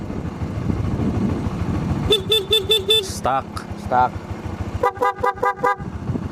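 A Honda CB150X motorcycle horn honks in two bursts of short, quick beeps, about four and then five, sharp and loud over steady engine and road noise.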